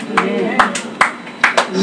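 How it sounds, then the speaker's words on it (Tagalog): A church congregation claps during a healing service, a handful of sharp separate claps at an irregular pace while a voice keeps talking over them. "Salamat sa inyong pumalakpak"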